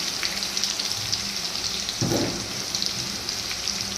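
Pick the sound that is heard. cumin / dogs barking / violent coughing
cumin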